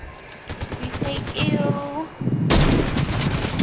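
Rapid video game gunfire in a first-person shooter, several short bursts of shots close by, with a loud sustained burst near the end and talk and game sounds mixed in.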